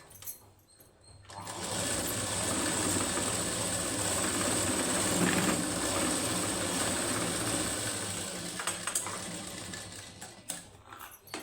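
A sewing machine runs steadily while stitching the high neck of a plain blouse, a close, continuous mechanical whir with faint rattling that starts after a quiet second and holds for about ten seconds, with no talking.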